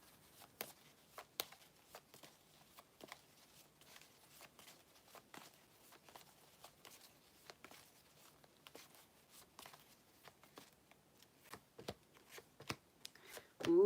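Animal tarot cards being shuffled and drawn, a steady patter of soft riffling slaps close to the mic, fairly quiet and without talk.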